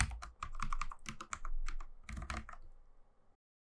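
Someone types a terminal command on a computer keyboard to update a Raspberry Pi, producing a quick, close burst of clicky keystrokes with a short pause, then stops into silence.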